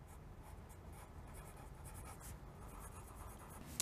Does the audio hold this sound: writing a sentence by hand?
yes